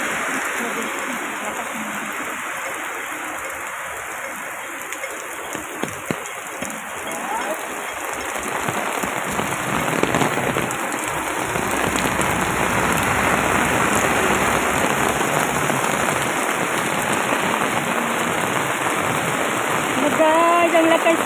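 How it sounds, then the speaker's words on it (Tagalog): Heavy rain pours down in a constant hiss that intensifies partway through, drumming nearby on an umbrella with faint talk underneath. "ang lakas ng ulan"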